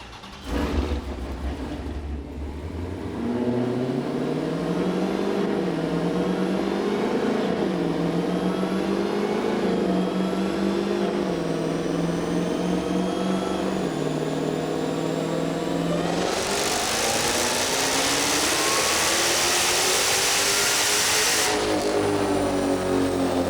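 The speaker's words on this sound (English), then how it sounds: "That is definitely one rowdy vehicle." A 1000 HP SRT Ghoul Challenger with a Hellephant engine runs on a dyno, its loud engine revving and climbing steadily through a long pull, with a harsh high-pitched roar near the end before it settles back.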